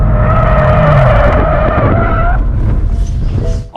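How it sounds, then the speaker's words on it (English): A BMW M3 skids and spins a full 360 on a race track, with a loud sustained tire squeal and a roaring engine that fades as the car slows. "I'm spinning. We do a full 360 on track."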